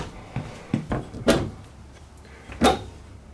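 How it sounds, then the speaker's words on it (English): Wooden RV drawers on full-extension roller bearing guides, in a 2015 Heartland Sundance XLT 278TS, slide and bump shut several times, with soft rolling rumbles and sharper knocks, close by in a quiet interior. "Full extend roller bearing guide, all wood assembly, rated to 50 pounds per drawer."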